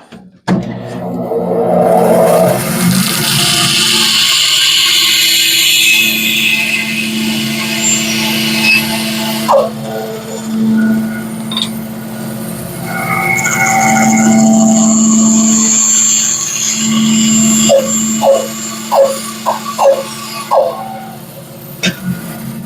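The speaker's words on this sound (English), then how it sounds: "I'm going to go to the bandsaw and cut this out" A bandsaw cuts out a sample piece in a workshop, a steady loud whining hum with shifting tones that rises and eases over about twenty seconds, ending with a few sharp clicks and knocks.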